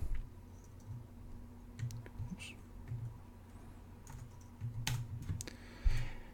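Scattered keystrokes tapping on a computer keyboard while entering data in R, light irregular clicks with short pauses, fairly close and quiet over a low steady hum.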